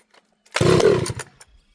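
A ported Husqvarna 2101XP chainsaw makes a first start attempt, coughing to life in a short, loud burst of about half a second of rough engine roar before sputtering out into quiet.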